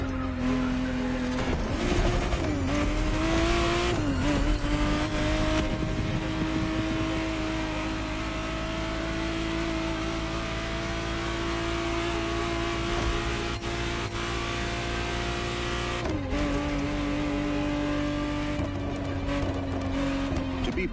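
A 1991 Ferrari 512 TR Testarossa in The Crew Motorfest, its engine holding a steady loud drone with sharp rev rises and shifts near the start and again late, tire noise underneath, no talk.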